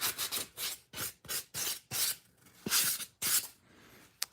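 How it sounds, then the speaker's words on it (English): Rhythmic rasping strokes of a sanding block scraping back and forth across an action figure diorama piece, close up, about a dozen passes with brief gaps. "I'm going to do it with my sanding block."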